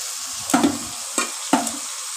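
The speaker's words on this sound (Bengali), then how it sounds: "এবার আমি দিয়ে দিচ্ছি গ্রেট করা ফুলকপিটা এর মধ্যে।" Grated cauliflower and onions fry and hiss in a pan, with a steady sizzle broken by three distinct stirring scrapes at an uneven rhythm, close and fairly loud.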